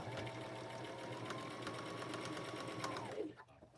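A sewing machine stitches a jumper seam around a pocket and down the leg in one steady, close, continuous whirring run before stopping abruptly near the end.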